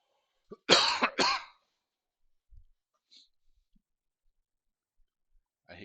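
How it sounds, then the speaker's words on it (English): A person coughs in two harsh, close bursts, followed by a few faint clicks and soft small noises in an otherwise quiet room. "I hate this cough."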